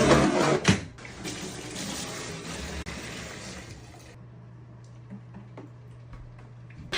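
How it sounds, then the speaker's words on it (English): Empty Native body wash bottles washed with hot water and soap in a bathtub, loud running water and splashing that cuts off partway, leaving a quiet hum with faint drips and small plastic clicks. "she's washing in the bathtub before recycling with hot water and soap"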